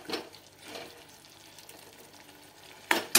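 Masala in a kadhai, with tomato cooking down, gives a low, soft sizzle and faint scraping of a spoon stirring, quiet and close, ending in two sharp louder clatters.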